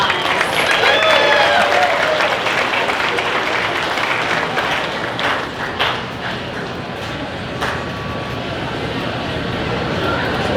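Audience applause at a county fair queen and princess coronation, broad clapping from a crowd with some voices mixed in, holding fairly steady throughout.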